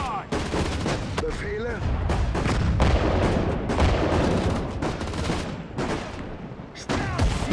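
Dense gunfire and grenade blasts from a WWII factory assault in the Sudden Strike 4 strategy game, with overlapping rifle and machine-gun bursts and booms packed together in a loud, continuous battle din.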